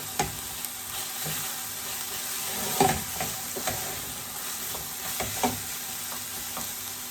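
Garlic sizzles in a hot pan while a utensil stirs it, a steady frying hiss punctuated by several soft scraping knocks, close and alone without talk.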